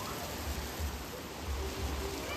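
Steady broadband rushing of water, continuous and fairly soft, with a low rumble beneath and no voices.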